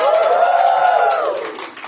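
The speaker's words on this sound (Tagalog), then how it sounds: "Isang palakpakan na may kasamang hiyawan" A live audience at a benefit show applauds and cheers, a loud sustained wash of clapping with voices shouting, fading slightly at the end.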